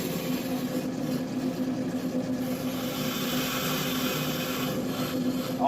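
A brake lathe turns a Chevrolet Silverado brake rotor to resurface it, giving a steady, faint mechanical whir with a constant tone and a light cutting rasp, and no one speaks.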